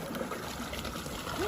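Fast-flowing stream water at a fishing spot, a steady rushing trickle close by, fairly quiet and continuous.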